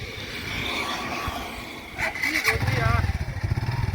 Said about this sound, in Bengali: দেখি একবার বাইকটা চালাই পুরোপুরি ঠিক হলো কিনা।